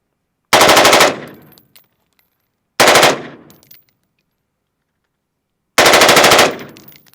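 Three loud, separate bursts of rapid gunfire from a PSA Sabre 18 GWOT-build rifle, each lasting about half a second with a ringing decay, spaced a few seconds apart outdoors.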